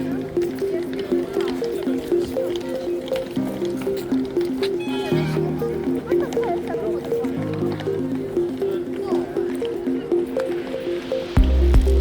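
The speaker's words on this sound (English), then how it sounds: "Excited about the horses, huh?" Horses in a Krakow street, with hooves clip-clopping and occasional whinnies under a steady murmur of voices and background chatter.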